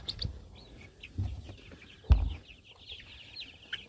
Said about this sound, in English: But Travis got some more Freedom Rangers. And these jokers are eating like crazy